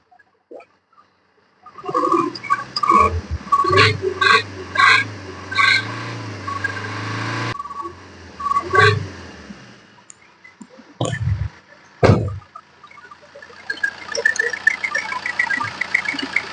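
A Chevrolet diesel car engine revs in bursts: a run of rhythmic, rising engine blips, then a few sharper isolated revs, with a clicking, knocking idle between them, heard close with no talk.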